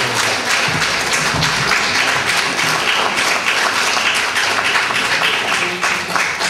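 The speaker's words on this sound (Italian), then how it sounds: "Prolungasti l'applauso anche con me" Steady, full applause from an audience at a literary gathering devoted to poetry, many hands clapping continuously and evenly throughout.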